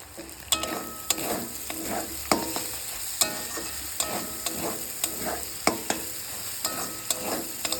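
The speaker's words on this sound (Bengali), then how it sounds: "মশলাটা ভালো করে কষিয়ে নিয়েছি" Spice masala frying in a pan for a dhaba-style egg tadka, stirred with a steady rhythm of sharp scraping strokes over a continuous close sizzle.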